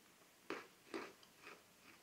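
Malt ball chocolates crunched and chewed close up, four crisp bites in a slow steady rhythm, each fading quieter than the last, with no talking.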